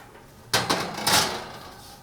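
A kitchen oven door is opened to put kale in to bake, a sharp metallic clunk followed by a couple of rattling knocks and a scraping rack, close and brief with no talking.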